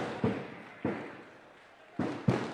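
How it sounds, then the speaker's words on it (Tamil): Firecrackers go off at a public farmers' association event, four sharp bangs at uneven intervals, moderately distant and fairly faint, with no talk over them. "இந்த பட்டாசு நிறுத்த சொல்லு தம்பி"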